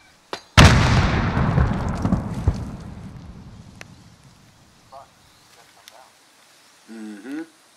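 A frag grenade explodes in Call of Duty Warzone with one loud close boom and a long rumbling decay, followed by faint gunfire and brief voices afterward.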